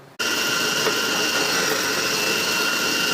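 A grinder starts abruptly and runs at a loud, steady high-pitched whir, pulverizing a whole freeze-dried sunfish with scales and guts into powder for homemade dog food.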